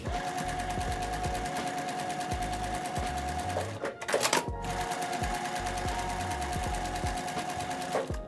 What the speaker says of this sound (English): Now we're gonna sew this on right down the center on that line.